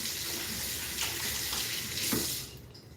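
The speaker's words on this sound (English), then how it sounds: "Let me rinse my hands real fast." Tap water runs steadily into a sink while hands are rinsed in a home kitchen during cookie dough mixing, a close, continuous splashing hiss with slight shifts as the hands move, cutting off at the end.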